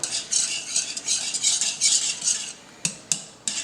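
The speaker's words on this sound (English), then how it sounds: "now we're gonna stir it up" A spoon stirs a chicken sandwich mixture in a bowl with rapid scraping and clinking, close and fairly loud. Three sharp knocks against the bowl follow near the end.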